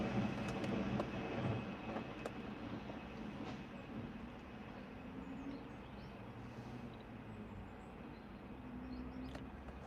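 A train rumbles past at a moderate distance, a steady rolling roar with faint rail clatter that gradually fades, no voices.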